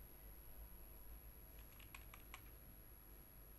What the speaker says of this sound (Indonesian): Ini keyboard saya mulai ngadat.